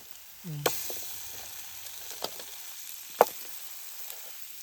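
Crabs dropped into hot masala over a wood-fired stove set off a sudden loud sizzle that settles into steady frying, with a few sharp knocks of a utensil against the pan, close by.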